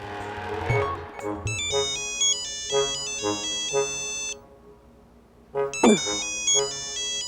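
Incoming video call ringtone on a phone, a loud melodic electronic tune repeating in short bright phrases. It stops briefly, then starts again.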